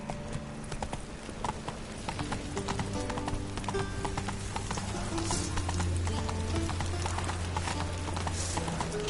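Roach the horse galloping through Novigrad in Witcher 3, a steady close rhythm of hoofbeats over sustained game music tones.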